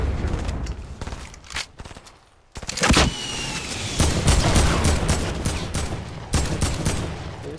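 Video game gunfire in rapid bursts of close, loud shots, coming in dense volleys after a brief lull and continuing almost without pause.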